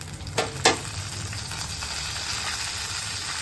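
A tadka of mustard seeds, cumin and dried red chillies frying in hot oil for Telangana grated mango pickle: two sharp crackles at the start, then a steady close sizzle with no voices.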